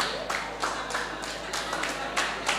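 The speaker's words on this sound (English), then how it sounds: "A round of applause for him, please." Audience clapping at a mentorship talk event, a short patter of applause from a small group at moderate distance with a steady background hum.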